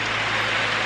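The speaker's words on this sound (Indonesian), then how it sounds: "diguyur hujan deras" Heavy rain pours down on a farm plot near a field hut during a strong wind, a dense, steady hiss that stays constant throughout with no voices.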